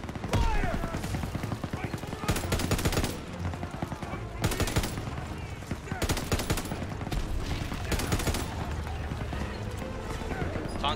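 Sustained MG42 machine-gun fire in a Call of Duty WW2 battle, long rattling bursts separated by brief lulls, loud and continuous, with a clattering, hoof-like patter and a voice speaking beneath the din.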